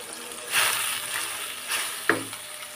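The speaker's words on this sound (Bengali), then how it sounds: "সবগুলো দিয়ে মশলাটা ভালো মতো কষিয়ে নিতে হবে।" Ground spice paste of turmeric, chili powder, coriander powder and salt sautéing in oil in a pan, a soft continuous sizzle with a few bursts of stirring scrapes, close and without voices.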